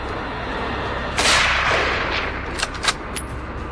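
Rifle shots fired at wild boars near a barbed-wire farm fence: a loud sharp crack followed by a long fading echo, then two or three more quick reports close together, with no talking.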